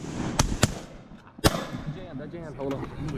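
Shotguns go off during a Maryland early-season duck hunt: three sharp, loud bangs in the first second and a half, followed by hunters' voices.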